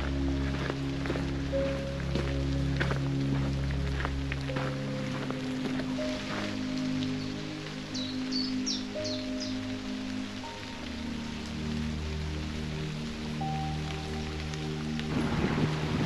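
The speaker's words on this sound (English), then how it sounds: "Seems to be some sort of heavy passing shower." Heavy passing rain shower at Arlington Reservoir in Sussex, England, a steady dense patter of rain on surfaces continuing throughout, with faint bird chirps and low rumbles underneath, no talking.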